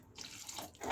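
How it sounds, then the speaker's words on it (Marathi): Hot water splashes into a pan of shev bhaji curry, a short burst of pouring and bubbling liquid that grows louder toward the end, with no voices. "मी अजून थोडं पाणी घालणार आहे त्याच्यामध्ये।"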